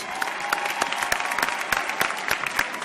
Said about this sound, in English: give a great round of applause to all of the ventures